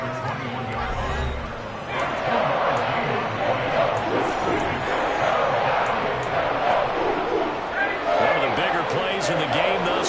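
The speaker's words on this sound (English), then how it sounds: "the crowd getting into it as we come up on a big 3rd down" Stadium crowd at an American football game roars steadily ahead of a big third down, a dense sustained wall of cheering and noise that swells louder after the first couple of seconds, with a commentator talking over it.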